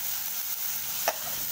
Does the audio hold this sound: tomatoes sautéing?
yes